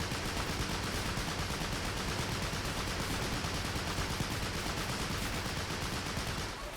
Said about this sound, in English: I love hearing that machine gun fire.